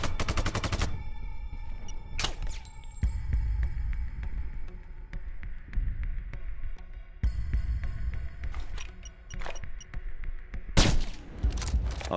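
Sustained gunfire in the video game Sniper Ghost Warrior 2, with dense rapid automatic bursts over a steady low throbbing rumble and several sharper loud cracks standing out near the middle and end.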